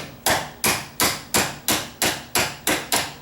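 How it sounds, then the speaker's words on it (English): Eight sharp, evenly spaced metallic taps drive a door hinge pin into its hinge, each strike loud and close with a quick decay, no voices. "just tapping the hinge pin in."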